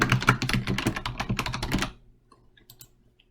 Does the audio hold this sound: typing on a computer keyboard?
yes